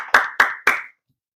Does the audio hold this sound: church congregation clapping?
yes